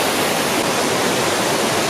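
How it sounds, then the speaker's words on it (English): Loud, steady roar of a waterfall in a national park east of Kathmandu, Nepal, heard up close from a bridge as a dense, unbroken rush of falling water. "we're just standing outside on the bridge, outside this pretty nice waterfall"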